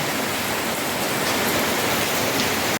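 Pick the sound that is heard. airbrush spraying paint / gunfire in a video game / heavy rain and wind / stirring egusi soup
heavy rain and wind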